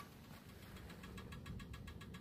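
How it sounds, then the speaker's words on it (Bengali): A motorbike engine labours steadily while climbing a high mountain road between Gangtok and Lachung in North Sikkim, a continuous low droning rumble with faint rhythmic pulsing, heard quietly under wind with no talking. "জাস্ট ইঞ্জিন ডাক দিচ্ছে"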